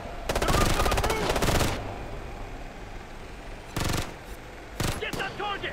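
Automatic gunfire in Ghost Recon Future Soldier, loud bursts at the start and shorter bursts later, with radio-style voices talking over a low background.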